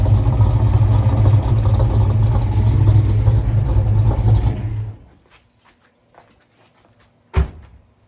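A Ford LTD engine under a carport rumbles loud and steady for about five seconds, then cuts off, leaving near quiet broken by a couple of sharp knocks.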